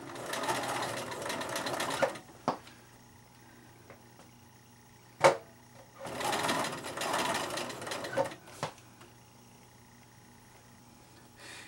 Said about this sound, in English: And I'm not going to sew super fast.